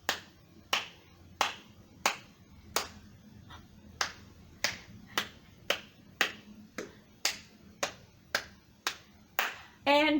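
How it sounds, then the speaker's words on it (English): Children at a storytime clap along to the Bingo song, a series of about fifteen sharp, evenly spaced claps in a steady rhythm, close and clear with no singing between them. "That last one was just claps."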